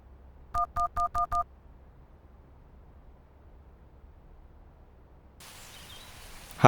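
Five short, evenly spaced telephone keypad tones as a number is dialed, clear and close in a quiet room, followed by a burst of noise at the end.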